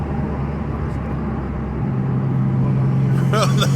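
A 1994 Mitsubishi 3000GT VR-4 with a 20T build launches from a brake release, heard from inside as a loud, steady engine drone that deepens into a strong low rumble as it pulls away, with a faint voice near the end.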